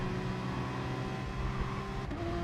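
Porsche race car with exceptionally long gearing in a racing video game, engine note shifting down toward first gear, a steady moderate drone with a pitch change near the end.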